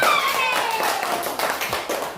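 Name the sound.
clapping for Ryan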